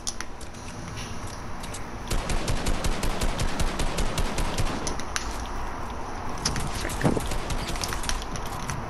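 Rapid Fortnite gunfire, dense bursts of sharp automatic shots stacking into a continuous rattling volley throughout, close and loud with a steady game ambience underneath.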